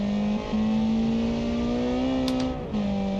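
A car engine screams at high revs in BeamNG on a classic Goodwood hillclimb course, holding a steady loud tone with two brief dips as gears shift.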